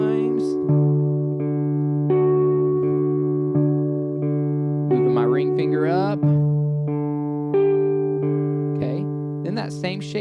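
An electric guitar plays a sustained picking pattern from a worship song, with steady ringing notes shifting pitch over several bars, heavily effected and reverberant, with a few brief bright squeaks.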